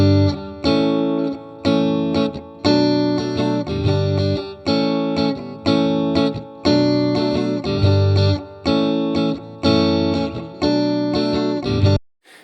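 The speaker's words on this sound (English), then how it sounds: "We just have this usual Fender Stratocaster into Fender amp kind of spike." A Fender Stratocaster played through a Fender amp rings out in a recorded passage of repeated strummed chords, loud and bright, with short gaps between phrases before it stops at the end.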